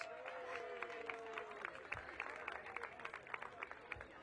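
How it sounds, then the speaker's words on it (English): Applause and cheering from an outdoor crowd at a Bike and Roll to School Day gathering in a park, scattered claps over a steady murmur of voices and background noise, with a soft whistle-like tone early on. "So everybody give yourselves a big round of applause."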